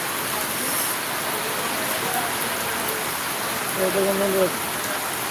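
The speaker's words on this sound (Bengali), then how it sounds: "সকাল থেকে এরকম ভাবে বৃষ্টি বাতাস আর বৃষ্টি" Steady broadband hiss of rain falling in Bangladesh, with gusts of wind rising and falling; a brief low tonal hum appears near the end.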